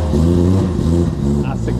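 A Nissan S14 drift car engine revs hard in a garage, a loud throaty burst that rises and falls in pitch over under two seconds, with a voice briefly audible near the end.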